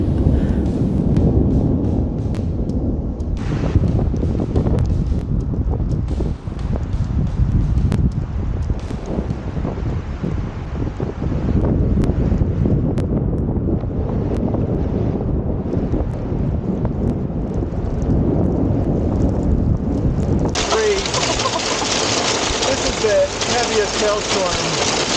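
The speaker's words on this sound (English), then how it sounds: "Heaviest hailstorm I've seen in a long time" Dense hail and wind pound a metal surface in a continuous loud roar at Hell's Backbone Bridge, gusting and buffeting the microphone, with a sharper, brighter clatter near the end.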